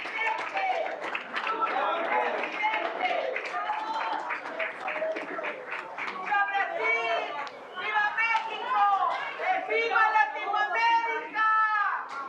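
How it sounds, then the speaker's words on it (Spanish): An audience in a Mexican Senate chamber applauds for Lula da Silva, a dense burst of clapping mixed with cheering voices and chatter that swells over about twelve seconds, with people speaking throughout. "Un aplauso para nuestro amigo Lula da Silva"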